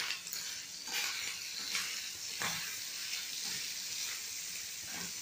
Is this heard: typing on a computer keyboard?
no